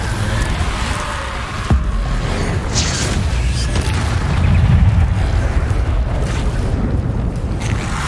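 Spell effects of the Incendio fire charm in Hogwarts Legacy, a continuous loud rumbling blaze with booming bursts over busy game ambience, with no talking.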